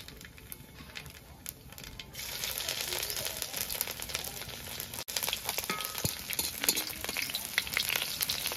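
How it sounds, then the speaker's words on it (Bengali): Nigella seeds and chopped ginger frying in hot oil, a steady close sizzle that swells after the ginger goes in, with light stirring rattles over a continuous crackling hiss. "আমার তেল গরম হয়ে গেছে, আমি দিয়ে দেবো কালো জিরা ফোড়ন।"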